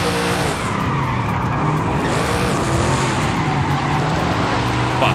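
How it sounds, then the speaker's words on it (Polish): Game car in Forza Horizon 5 drifting, with continuous loud tire squeal and engine roar throughout, steady and close with no break. "Ej, nie mogę przestać nim driftować, to jest piękne!"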